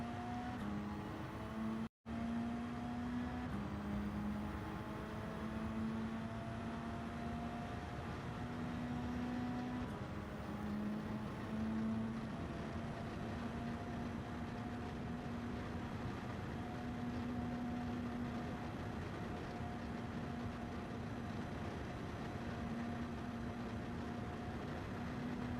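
Mitsubishi Lancer Evolution X Final Edition in Gran Turismo 7 on a stock top-speed run, its engine droning steadily at high revs through long gear pulls, with a brief cut near the start and no talk.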